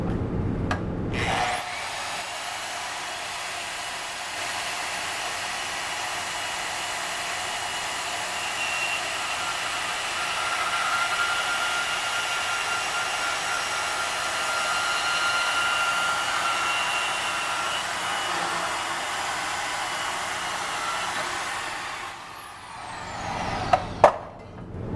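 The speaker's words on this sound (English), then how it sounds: "So I'm going to use the saw again." A saw cuts steadily through a vehicle's exhaust pipe during a DPF delete: a loud, continuous grinding rasp lasting about twenty seconds, starting and stopping abruptly, with a couple of clanks at the end and no talking.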